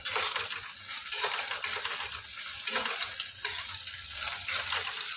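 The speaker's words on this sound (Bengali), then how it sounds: "তাকে একটু ভাজা হোক না।" Eggs fry in a pan for chow mein, a bright crackling sizzle with scraping spatula strokes and metallic clinks recurring every second or so, close and fairly loud.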